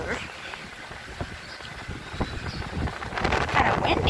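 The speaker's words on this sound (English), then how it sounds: "Kind of windy, huh?" Gusty wind buffets the microphone, rumbling and rustling unevenly and growing stronger toward the end, with faint voices in the background.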